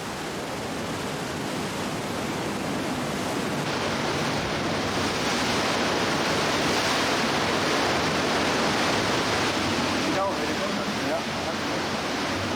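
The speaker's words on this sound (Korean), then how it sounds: "이날은 바람이 불고 파도가 높아 동굴 입구까지 파도가 깊이 들어왔다." Strong, high waves surge into the sea-cave entrance of Neptune's Grotto on the Sardinian coast, a loud, steady roar of broken surf and spray with wind, continuous for the whole stretch and with no voices.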